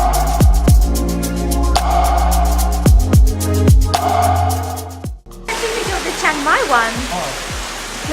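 A limestone waterfall inside Gyokusendo Cave in Okinawa, Japan gives a constant broad rushing roar, with scattered taps over it and a person talking in the later part.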